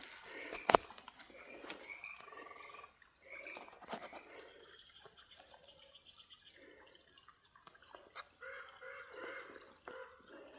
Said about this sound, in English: You can hear the bullfrogs and the birds chirping.